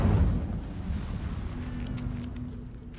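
Incendio fire spell cast in Hogwarts Legacy, a loud whooshing burst of flame at the start that settles into a sustained rumbling roar with a faint steady hum.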